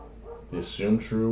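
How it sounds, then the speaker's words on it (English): A dog barks and yips a few times in the background of a room while a lecturer talks over it, the short barks clustered near the end. "Sorry if you can hear the dogs in the background."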